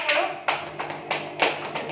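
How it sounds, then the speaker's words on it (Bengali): A few people clap at an anniversary celebration, a short run of loose, uneven handclaps close by with brief pauses between bursts. "হাততালি নিজেরাই দিয়ে দিচ্ছে।"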